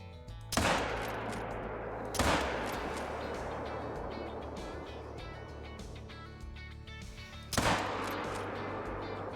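Three loud rifle shots from a 45-70 in the hunting game Call of the Wild, spaced irregularly, each a sharp crack followed by a long rolling echo over steady outdoor ambience.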